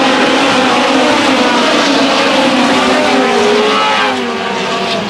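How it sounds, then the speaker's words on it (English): Race cars roar around an oval dirt track in a steady, loud engine wash, several cars blending as they power up the banking, with no talk over them. "don't look now with the 5 car making some noise"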